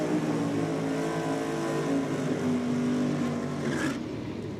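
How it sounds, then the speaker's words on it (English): Vintage gas drag cars, one a Chevy with a 468-cubic-inch big block, rev hard during a burnout at a drag racing event; a loud, sustained, high-RPM engine roar holds steady, then eases slightly near the end. "Another pair of vintage gas cars about to commence their burnout procedure"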